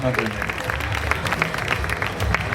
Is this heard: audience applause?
yes